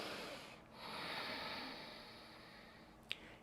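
Slow breathing out through the back of the throat, a soft growling, snore-like rush of air that holds steadily for a few seconds, faint and close.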